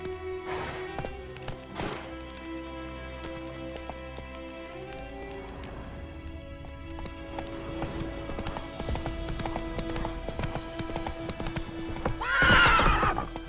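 A horse in The Witcher 3 video game gallops with rhythmic clip-clop hoofbeats and gives a loud neigh near the end. No one speaks.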